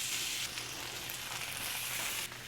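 Cheesy sausage and potato patties frying in olive oil on a griddle: a steady hiss of close sizzling with a faint low hum under it, and no talk.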